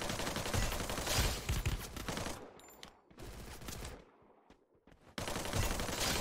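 Gunfire in the Free Fire video game, a dense stream of rapid automatic shots that stops briefly, fades to near quiet, then bursts back in at moderate level with no voices.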